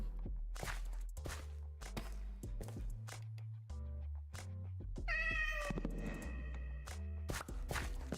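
A Minecraft cat meows once amid game sounds, with repeated footstep-like thuds and low tones throughout, the meow rising clearly near the middle.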